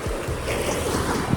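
Sea waves wash onto Tilmati's black sand beach near Karwar with a loud, rushing roar, while wind buffets the microphone throughout.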